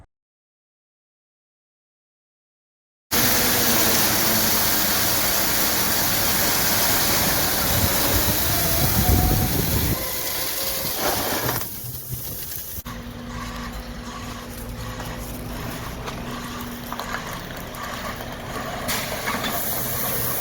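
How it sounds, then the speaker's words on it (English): Heavy rigid truck with a chip spreader laying 14 mm rock, all ten gates open about 85 mm: a steady, loud broadband rush of falling stone over a droning engine, with a hiss and a brief shift partway through. "Okay, all 10 gates are open. We're spreading rock. 14 mil rock."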